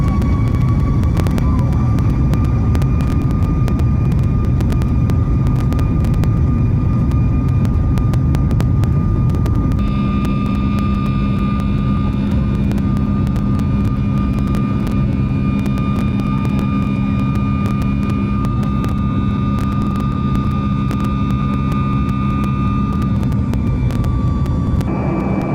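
Cabin of a Boeing 737 MAX airliner during climb-out, a loud constant roar of engines and airflow with a steady whine, continuing without break.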